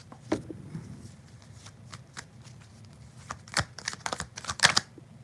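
Tarot cards are shuffled by hand close to the microphone, a run of crisp papery riffles and snaps that grows busier and louder toward the end over a low background hum.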